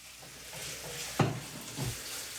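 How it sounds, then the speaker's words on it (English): Pieces of steak browning in a hot pan for steak and Guinness pies, a soft steady sizzle with a couple of louder spits and stirring scrapes, close and fairly quiet, no voices. "we just want to fry them up really, just get them all nice and brown"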